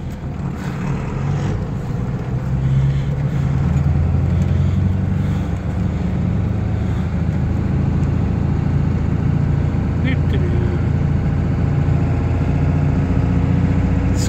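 A car engine drones steadily while driving in second gear, a loud continuous low hum with road noise lasting throughout, heard from inside the vehicle.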